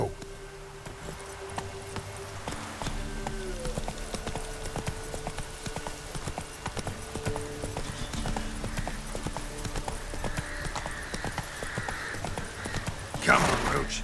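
Hooves of Roach, a horse in the video game The Witcher 3, trot steadily and rhythmically close by. Quiet game music tones and ambient sounds play underneath, with a short louder rustle near the end.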